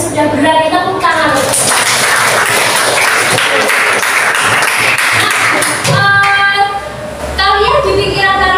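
A classroom of students claps for a classmate, Chelsea, after her retelling of the film Gundala, a burst of loud, quick clapping lasting a few seconds between stretches of someone speaking.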